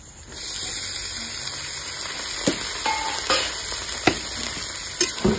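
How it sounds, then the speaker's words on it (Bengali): Chicken is added to frying onions in a hot pan, bringing a steady oily sizzle with sharp pops and clatters of stirring scattered through. "পেঁয়াজ প্রায় ভাজা হয়ে গেছে আমার, এবারে এখানে আমি চিকেন দিয়ে দেবো"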